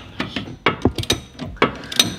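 A ratchet wrench working a stubborn strut bolt on a Porsche Cayenne Turbo S wheel carrier, several clicking pulls in uneven bursts with short pauses between, close and fairly loud, no voices.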